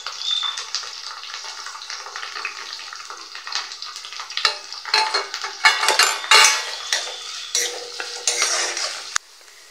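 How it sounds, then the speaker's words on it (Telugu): Onions sizzle in hot oil for Telangana-style mutton curry, starting as a soft steady fry, then growing louder with clattering spoon-against-pan stirring and metallic scrapes near the end, no talking. "ఉల్లిపాయలు వేసుకుంటాను"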